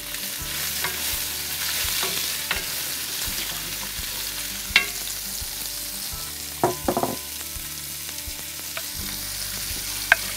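Celery and onions frying in drained bacon grease over charcoal, with a steady broadband sizzle and a few sharp stirring clacks and scrapes, fairly close, with no talk.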